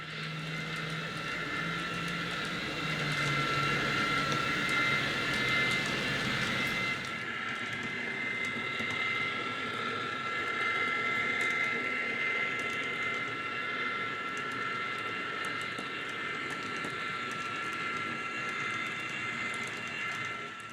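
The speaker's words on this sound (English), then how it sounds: "We just had our train 306 pass through" An N scale DCC model train passes through a junction crossing on a layout, a soft rolling clatter with faint high whine and hum that drops off sharply partway, leaving quieter running noise.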